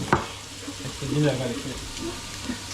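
Onions and ginger garlic paste fry in a pan, giving a soft sizzle with stirring scrapes and a sharp clink near the start, while a voice speaks briefly over it.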